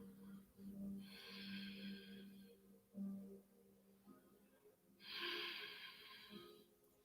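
Two long, deep breaths during a yoga flow, each a close, airy rush of about a second, over a soft steady background hum.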